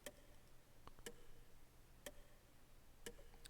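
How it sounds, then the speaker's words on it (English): A stately grandfather clock in an empty hallway ticks in The Colonel's Bequest, the computer game. The ticks are sharp and evenly spaced, about one per second, over a faint background hum. "The incessant ticking of the stately grandfather clock is the only sound you hear in the empty hallway."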